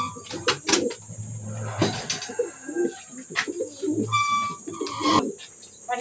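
Pet pigeons and doves at a new backyard coop coo close by in repeated low, throaty phrases, mixed with scattered chirps and a brief flutter of wings over a faint steady hum.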